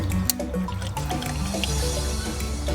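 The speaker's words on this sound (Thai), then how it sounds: "ค่อยๆเติมไปทีละนิดนะคะ สีน้ำก็จะเป็นสีชมพูแดง" Pink radiator coolant trickles steadily into a car radiator, a close continuous liquid pour with gentle dripping and gurgling throughout.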